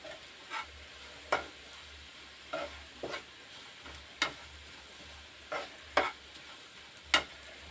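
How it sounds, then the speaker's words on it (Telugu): Bitter gourd frying with spice powder in a pan: a low, quiet sizzle broken by regular, distinct scraping stirs about once a second, alone and close. "దీన్ని కొంచెం బాగా ఫ్రై అవనిద్దాం"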